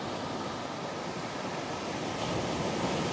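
Sea waves surge and crash against the shore during a coastal fishing trip, a steady loud roar of surf and spray with no pause and no voices.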